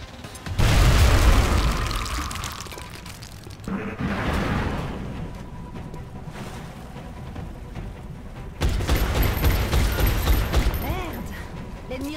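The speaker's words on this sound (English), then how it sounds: "Throwing grenade." A grenade explodes in the video game X-Com, heavy booms landing near the start and again later among bursts of combat noise, with voiced game chatter running through.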